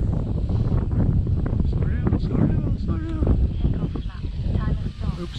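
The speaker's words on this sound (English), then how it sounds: "The gust there, the gust picked up." Wind gusting across the microphone at an outdoor park during RC plane flying, a loud steady rumble that swells and dips, with someone talking over it.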